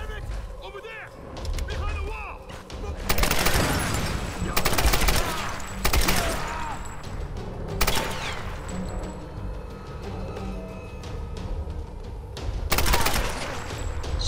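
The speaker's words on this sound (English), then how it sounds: "did she get that effing machine gun?" Machine gun fire in the Tomb Raider video game, with bursts of rapid gunfire and booms recurring across the stretch amid game sound effects, mixed with a person talking over the action.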